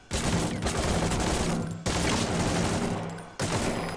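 Unsuppressed gunfire with a broken suppressor in Metal Gear Solid 5: The Phantom Pain, a loud dense automatic burst in three sustained bursts separated by short breaks, close and harsh.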